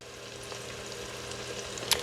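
Onions sautéing in butter and bacon drippings for potato soup, giving a soft, even sizzle throughout with a faint clink near the end.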